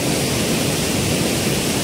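A fast mountain river on the Gangotri-Gaumukh trek churns in a constant, dense hiss-and-roar of flowing water, close and even throughout, with no voices or other sounds.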